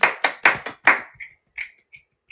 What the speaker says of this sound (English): Does she get the little clap and everything?